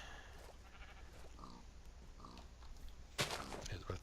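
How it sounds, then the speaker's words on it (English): Sheep in the Aether II Minecraft mod bleat faintly at a distance among quiet game sounds, followed by a louder, sharp burst near the end. "Let's see, yep, I see 3 sheep."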